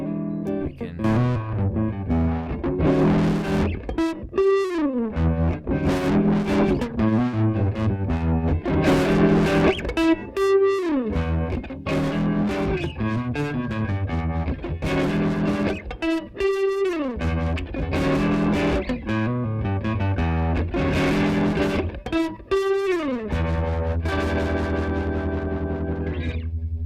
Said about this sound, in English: it makes it kind of sound a bit like a tremolo, but it's kind of funky because it's moving everything up and down per the band